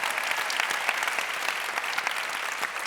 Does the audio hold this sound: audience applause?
yes